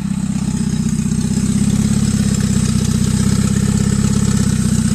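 A turbocharged Honda Civic D16 engine idling, burning off oil after smoking badly. A steady, close, even low rumble continues unchanged throughout.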